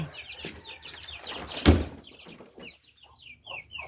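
Chickens clucking nearby in a backyard flock with a loose escaped chick, short repeated clucks and chirps, with a sharp knock in the middle.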